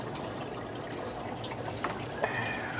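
Water from an aquaponics pump pours steadily through a DWC pipe, a continuous close gushing and trickling with small splashy bursts and no talking.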